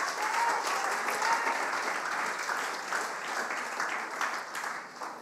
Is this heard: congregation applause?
yes